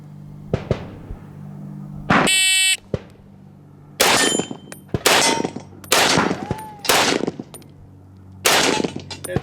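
POF Revolution rifle fired at an outdoor range: several loud, sharp gunshots in quick strings, some shots separated by short gaps, with a brief buzzing timer beep before the first burst.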